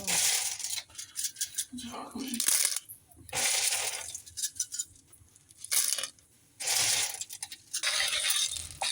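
Seashells tossed into a cooking pot of lightly stewed tomatoes, giving several bursts of hard clattering and rattling as the shells land, with pauses between them and talk heard throughout.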